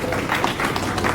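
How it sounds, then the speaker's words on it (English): Applause from an audience at a coding event: a short, fairly loud spell of dense clapping from many hands, steady for just over a second with no clear talk. "Can I get one more round of applause?"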